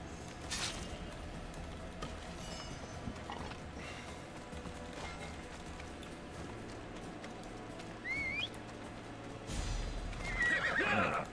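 A horse neighs and whinnies in the Assassin's Creed video game, with clip-clopping hooves and mechanical game sounds; a louder whinny rises near the end.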